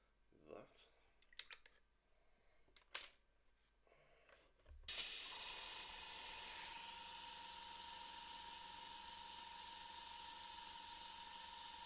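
An airbrush sprays paint onto a Warhammer 40k miniature, starting partway through as a sudden loud, steady hiss that settles into a constant airy spray. Faint speech and light clicks come before it.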